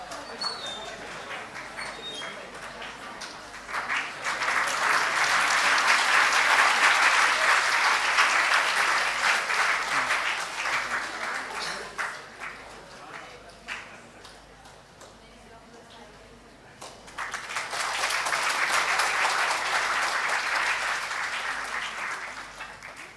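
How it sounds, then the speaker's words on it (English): A standing audience at a World Anatomy Day ceremony applauds the Chancellor in two sustained waves of dense clapping, with a quieter lull between them and an announcer's voice around the applause. "give a huge round of applause for the Chancellor"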